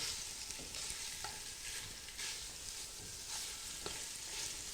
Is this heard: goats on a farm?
no